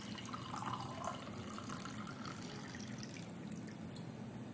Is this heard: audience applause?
no